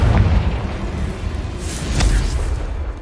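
A Confringo fire spell from Hogwarts Legacy bursts into a loud, rumbling explosion, a dense low boom that swells and rolls on for several seconds with crackling flares.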